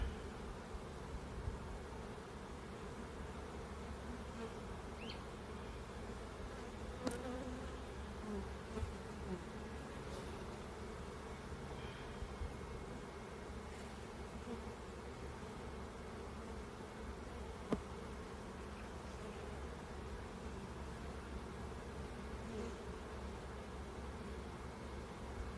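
Honeybees buzzing around open hives during a hot June hive inspection, a dense continuous drone with a few faint clicks and knocks, steady and close throughout.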